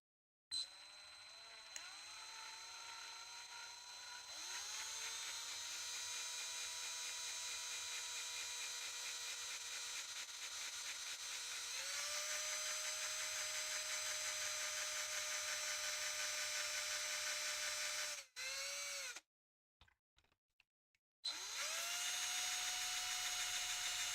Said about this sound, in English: Here, I'm gonna drill straight down into this one.